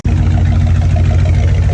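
The freshly rebuilt 350 V8 in an El Camino runs close and loud with a smooth, even idle and a steady low rumble of rapid firing pulses, heard alone without any talk.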